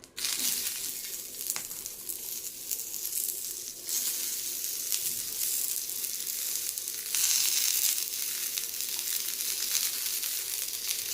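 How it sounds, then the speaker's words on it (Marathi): Onion sautés in oil left in a pan after coconut was roasted in it, making a steady sizzle and crackle with scraping and stirring noises. The frying stays moderately loud and continuous, with no talking. "आता याच्यामध्येच आपण कांदाही परतून घेऊया।"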